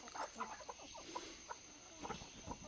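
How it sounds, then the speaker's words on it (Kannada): Farm hens raised in a garden plot cluck softly in short, scattered bursts against a faint, steady background hiss, sounding fairly distant and quiet. "ನಮ್ಮ ತೋಟದಲ್ಲಿ ನಾವು ಸಾಕಿದಂತಹ ಕೋಳಿಗಳು ಇವು"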